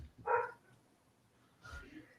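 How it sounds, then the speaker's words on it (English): A dog barks outside, two faint, distant barks about a second and a half apart against quiet background. "what is going on with that dog outside?"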